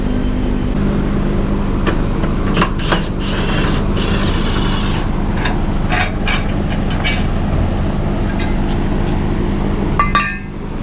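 An Infiniti G35 car is lowered on a workshop lift, with a continuous loud mechanical hum broken by metallic clinks and clatter before the sound cuts off near the end.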